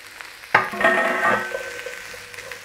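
Onions and peppers dropped into a hot pan for a stir fry with black pepper chicken, giving a sudden loud sizzle that swells with stirring and then fades to a softer, steady crackle.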